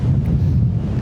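Strong wind buffets the microphone, a loud, continuous low rumble and roar with no other sounds standing out.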